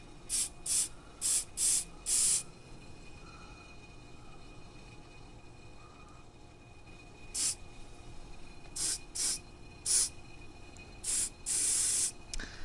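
Short bursts of spray cleaner hiss as they are forced through a clogged nozzle, a quick cluster of sprays, a long pause, then another series, close and with no talk.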